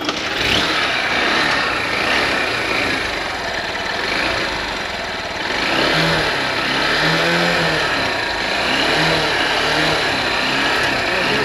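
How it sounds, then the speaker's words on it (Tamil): A 2025 Honda SP 160, a 160cc motorcycle, has its throttle blipped, and the steady engine drone swells into rising and falling rev sweeps in the second half. The engine is close and loud, with no talking. "இப்போ ஃபஸ்ட்டு நம்ம வந்து எஸ்பியோட த்ராட்டல் ஆஸ் கேட்போமா நம்ம"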